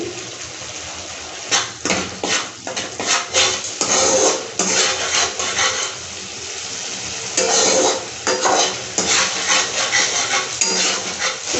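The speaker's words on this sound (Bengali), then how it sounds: "দু মিনিট নাড়ানোর পর ভাজার পর" Spices with turmeric and salt fry in a pan as a spoon stirs them, producing a close sizzle broken by bursts of rhythmic scraping and clattering strokes against the metal.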